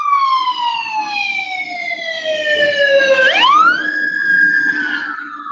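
Ambulance siren on a New York City street, a loud wailing tone sweeping down then sharply up as the vehicle passes close by, with faint traffic rumble beneath.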